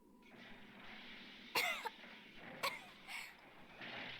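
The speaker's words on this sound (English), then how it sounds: "Cough, cough." A character in the visual novel game Chaos;Head Noah, freshly pulled from rubble and covered in dust, coughs twice: two short, sharp bursts about a second apart over quiet ambience, followed by a softer breathy sound.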